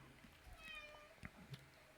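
A pet cat meows for food, a couple of short faint mewing calls in a quiet room, with a few soft knocks and handling sounds around them.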